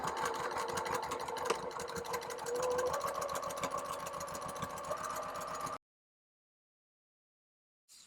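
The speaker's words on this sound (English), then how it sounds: "I'm just going to stitch off the edge there to divide the pocket" A sewing machine stitches pocket divisions on a drawstring bucket bag, running as a steady rapid mechanical whir for several seconds before stopping abruptly into silence, with a brief restart at the very end.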